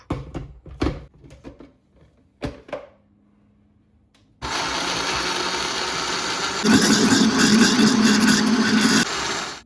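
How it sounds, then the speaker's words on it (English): Blender blending a cooked berry and lemon mixture: a few kitchen clatters first, then the motor kicks in loud and steady, rising in pitch partway before cutting off. "Let the mixture cool slightly, then blend it until smooth."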